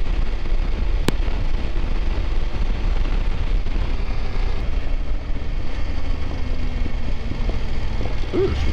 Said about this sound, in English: pop them crackling coming out of this exhaust.